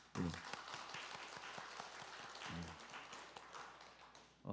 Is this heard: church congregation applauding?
yes